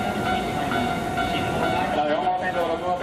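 An Osaka Metro Midosuji Line subway train runs through Umeda station in Osaka with a steady, loud rumbling roar of wheels and motors. No one speaks over it.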